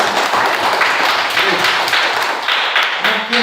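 Classroom applause from students, a loud burst of hand clapping sustained for a few seconds with uneven rhythm, close by and filling the room.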